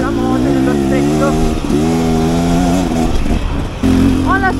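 A 2024 Beta Xtrainer trail motorcycle revs loud and close, its engine rising and falling through several throttle blips with brief dips between them, while a voice talks over it.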